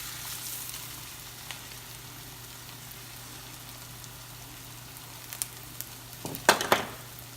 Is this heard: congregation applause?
no